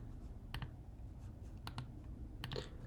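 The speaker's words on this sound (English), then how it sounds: "we're gonna type it in our terminal" Keys on a computer keyboard are struck in a terminal in three short clusters of quiet clicks, spaced about a second apart against a faint background hiss.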